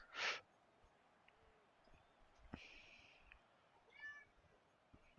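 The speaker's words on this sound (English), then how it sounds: "Y'all hear this cat?" A cat outdoors in snow gives one sharp, fairly loud meow at the start, followed by softer scattered chirps and small noises against quiet background hiss.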